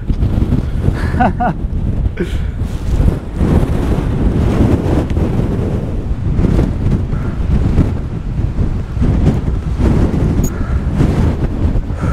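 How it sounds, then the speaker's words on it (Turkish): Strong wind on Table Mountain buffets the microphone in loud, continuous gusts, roaring and rumbling without pause. "İnanılmaz bir rüzgar var."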